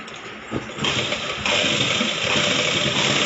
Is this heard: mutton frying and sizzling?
no